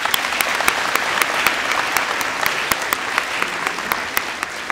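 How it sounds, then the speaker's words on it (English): An indoor audience at a Veterans Day ceremony gives a round of applause, a full, steady wash of clapping with crisp individual hand claps popping out near the microphone throughout. "Let's give them a round of applause."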